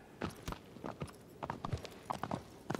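Hooves of the horse Agro clip-clop in Shadow of the Colossus, a steady, fairly loud trotting rhythm of crisp hoof strikes on hard ground with no talking over it.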